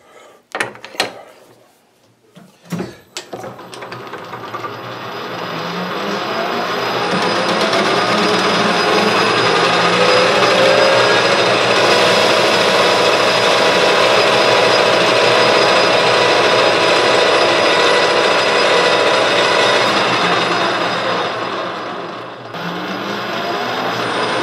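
A metal lathe turns down the end of a rotary broach part to form a locking nut or ring, starting with a few clunks before a long, steady, loud machining whir that eases off at the end.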